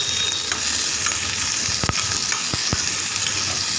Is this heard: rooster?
no